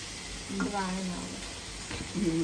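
Chicken frying in a hot pan for biryani, a steady sizzle and crackle close by, heard under voices talking in the background.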